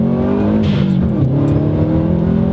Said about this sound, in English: Just that blow-off noise alone is worth shifting into each gear.